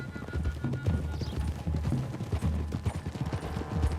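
Horses gallop in Red Dead Redemption 2, a steady drumming of hooves at mid distance, continuous and fairly loud throughout with a faint background mix.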